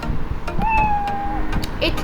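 A single drawn-out cat meow sound effect, played in Scratch, clear and close, rising then holding steady for under a second over a faint background murmur.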